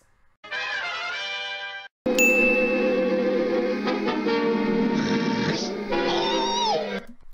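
Cartoon cat Tom from Tom and Jerry meows loudly in two bursts, a short wail and then a longer, shifting caterwaul over a busy cartoon soundtrack.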